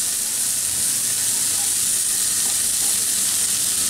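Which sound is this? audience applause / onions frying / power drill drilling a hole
onions frying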